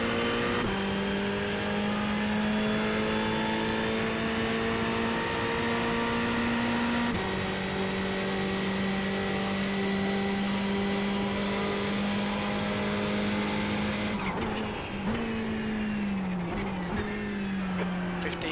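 A Ferrari GT3 race car at Virginia International Raceway howls at full throttle, its engine note climbing steadily through the gears with a brief shift break, close and loud, then dipping as it lifts near the end.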